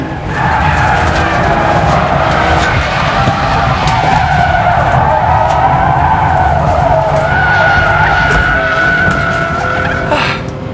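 A Nissan GTR accelerates hard and corners on a test track, engine roaring continuously with sustained tire squeal and skidding throughout, loud and close.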